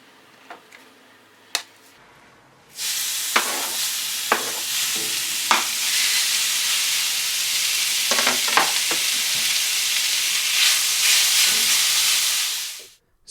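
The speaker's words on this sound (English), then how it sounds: "Mix it in really good and toss it into your hot pan. It's gonna sizzle. You'll love the sound." Seasoned steak for tacos tossed into a hot pan, setting off a loud, sustained close sizzle and hiss that runs for about ten seconds before cutting off, with a few clacks before and during it.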